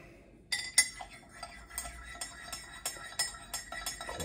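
A spoon clinks against the inside of a mug of tea with milk, a quick run of bright, close taps in an irregular rhythm after a brief quiet start.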